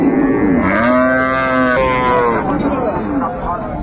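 Close, loud mooing from a dairy cow at a Dinajpur cattle market, a drawn-out low call with a rising second phrase, while people talk in the background.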